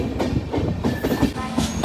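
The Mandovi Express rolls into Chiplun station, its wheels knocking in a rapid, uneven clatter close by, with faint tonal squeals over the rumble.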